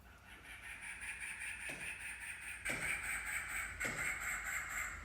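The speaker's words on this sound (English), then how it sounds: "God, there's a bird in here." A bird chirps indoors in a sunny room in Mexico with a few repeated calls over a steady hiss, accompanied by occasional sharp knocks.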